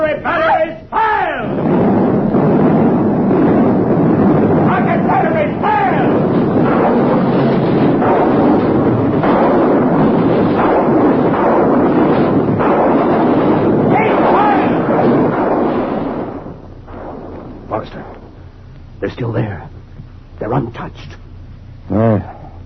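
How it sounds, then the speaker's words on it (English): Movie artillery batteries open fire in a long, loud, rumbling barrage of blasts that fades after about fifteen seconds, leaving scattered booms under speech. "Artillery batteries, fire!"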